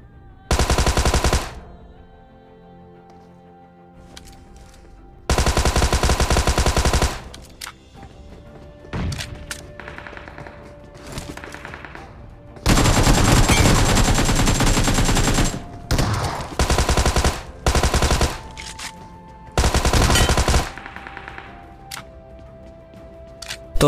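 Bursts of automatic gunfire in a PUBG fight, loud rapid volleys separated by quieter gaps, several long sustained bursts and a few short ones, with no voices.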